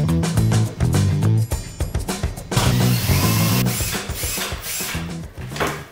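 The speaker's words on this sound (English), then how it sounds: "Let's get back to drilling holes." A Milwaukee or MKC hole saw on a power drill cuts into drywall and lath-and-plaster, a loud, close, continuous grinding and rattling churn with rhythmic pulses, no voices.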